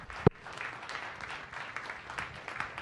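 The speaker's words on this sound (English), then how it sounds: "Let's give him one more round of applause." Audience applause at an evening science cafe talk, a steady wash of clapping from a seated crowd after a sharp single bang near the start, moderately loud and continuous throughout.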